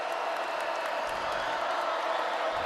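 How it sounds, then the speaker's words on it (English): Stadium crowd at a 2021 college football game between BYU and Utah State, a dense continuous roar of many voices and whoops, steady and loud with no pauses, swelling before a third-down play. "Look at that crowd noise."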